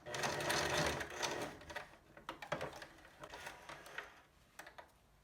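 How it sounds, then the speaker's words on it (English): A sewing machine stitching an elastic loop onto the edge of a fabric face mask, in quiet bursts of rapid mechanical chatter that start, pause and restart, with faint handling noise in between and no talk. "you're going to be inserting this loop right on the edge and sewing that into place"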